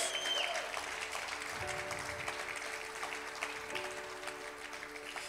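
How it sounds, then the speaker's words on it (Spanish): A church congregation applauding, a dense even clatter of many hands clapping in a large room, steady for several seconds at moderate level. "si da un aplauso, déselo al Señor fuerte"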